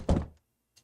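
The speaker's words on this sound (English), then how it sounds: "we got the door closing sound." A game door closes with a heavy, low thunk lasting a few tenths of a second, followed by a faint short click near the end, with no talk.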